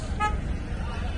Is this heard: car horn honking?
yes